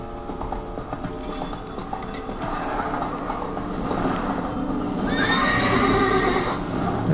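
Roach the horse in The Witcher 3 whinnies loudly near the end over a bed of hoofbeats and game ambience, the neigh rising and shaking before trailing off.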